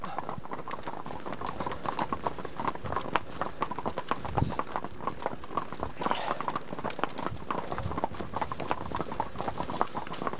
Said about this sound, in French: Doucement les chevaux